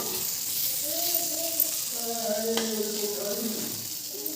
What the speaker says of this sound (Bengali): এই যে তিতা করলা ভাজিটা তো বসিয়ে রেখে গেছি